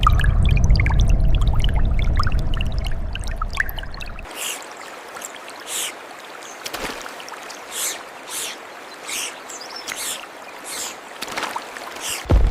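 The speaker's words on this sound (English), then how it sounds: "New trickles emerged through ancient cracks" Underground water pours heavily at first, then gives way to quieter, scattered trickles and drips echoing in a hushed cave-like space, with no voices.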